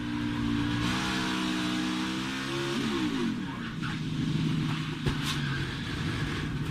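A stock car engine at Kansas, loud and near, holding a steady high drone that then dips and climbs through falling and rising revs as the throttle opens, with no talk over it.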